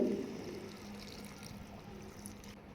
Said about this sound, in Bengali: তারপর এখানে ফাইনাল ঝোলটা অ্যাড করে দিচ্ছি আমি